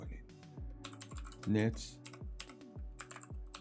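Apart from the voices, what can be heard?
typing a PowerShell command on a computer keyboard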